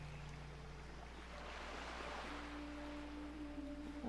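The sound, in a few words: water and waves in the video game World of Warcraft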